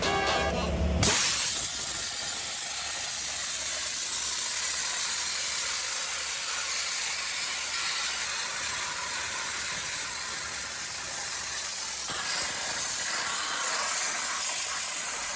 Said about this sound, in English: So I wanted to put it to the test with the only dry ice cleaner in Durban, South Africa, Ryan.